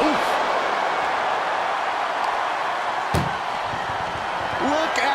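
An ambulance door slams once during a wrestling match, a single sharp bang midway through a steady wash of arena crowd noise.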